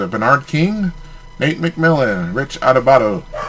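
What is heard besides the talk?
None of the usual background noises is heard.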